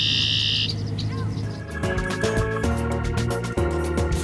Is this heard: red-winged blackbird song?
yes